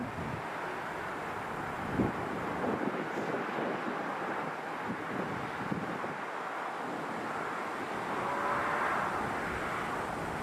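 A DHL Boeing 757 with Rolls-Royce RB211 engines passes at London Heathrow, a steady broad roar buffeted by wind noise on the microphone, swelling slightly toward the end.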